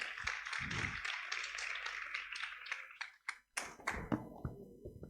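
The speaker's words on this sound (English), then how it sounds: "Please give a round of applause for our mentor," A modest audience at a school event claps for a mentor. The claps are scattered and uneven and sound fairly close, with individual hand slaps standing out rather than blending into a dense roar, and the claps are sharper and sparser toward the end.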